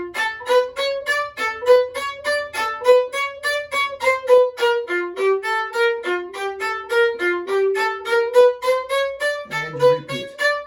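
Viola playing an allegro passage with bouncing, off-the-string bow strokes, a steady run of short detached notes heard close and alone, with a brief lower scrubbing figure at the very end.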